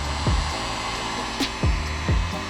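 A heat gun blows with a steady, close whirring hiss while warming a Honda S2000 mirror lens to free it from its backing plate, with brief tonal sweeps as it moves.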